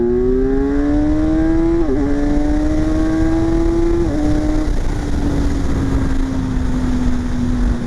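A 2026 Kawasaki Z1100 motorcycle accelerating hard in first gear, engine note climbing steadily with two quick quickshifter gear changes, then settling into a sustained high drone, loud and close with heavy wind roar and no talking.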